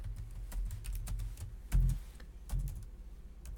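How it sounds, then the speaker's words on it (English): A formula is typed on a computer keyboard: a quick, close run of light key clicks with a few heavier thumps mixed in, and no talking. "right here we're going to type equal average"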